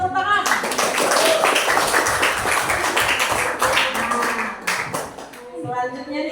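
Classroom applause after a group presentation, a dense burst of many hands clapping that carries steadily for about six seconds and fades near the end.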